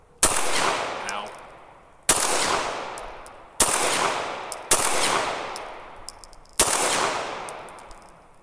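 Five sharp, loud shots from a CZ 75 SP01 Phantom pistol at an outdoor range, spaced irregularly about one to two seconds apart, each trailing off in a long echoing decay.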